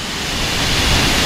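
A waterfall roars steadily and close by, a dense broadband wash of falling water with no pauses and no voices over it.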